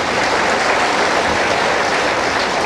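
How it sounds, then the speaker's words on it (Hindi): Dense, steady applause from a large audience at a devotional spiritual discourse, a continuous wash of clapping held at an even level with no voices. "देखते क्या, ताली नहीं बजाते,"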